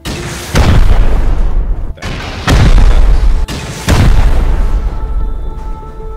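Rocket impacts slam into a clan base compound in Rust, three loud, close booming explosions spaced a second or so apart, each followed by a roaring rumble of debris.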